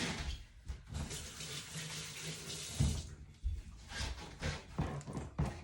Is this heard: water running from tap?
yes